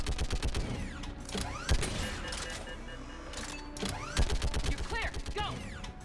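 Rapid bursts of gunfire from a weapon in the video game Mass Effect 3, repeated loud cracks in quick succession over a dense mechanical, battle-like backdrop, with a voice talking intermittently.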